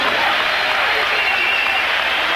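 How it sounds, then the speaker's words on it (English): A boxing arena crowd applauds after a twelve-round rematch between Chris Eubank and Nigel Benn, producing a dense, steady wash of clapping and cheering from a large audience that fills the whole stretch without pause. "they both deserve a round of applause"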